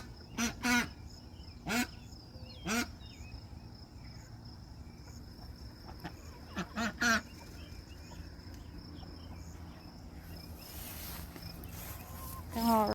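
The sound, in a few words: ducks quacking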